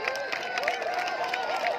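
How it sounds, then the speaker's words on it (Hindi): An audience at a live volleyball match claps and cheers for the referee, with steady crowd applause and a voice running over the noise. "एक बार जोरदार तालियां हो जाए रेफरी महोदय के लिए"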